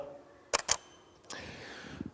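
A camera shutter fires during a slow-shutter, long-exposure shot: two sharp close clicks in quick succession, a pause, then another crisp click followed by a fainter mechanical whir and a couple of soft closing ticks.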